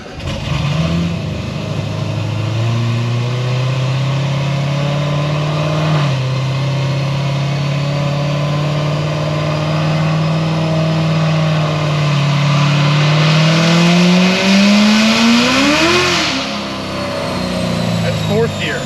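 Car engine on a dyno revving hard in fourth gear with an RPM Stage 4 setup, a loud sustained drone climbing steadily in pitch and peaking near the end before backing off, with voices talking underneath.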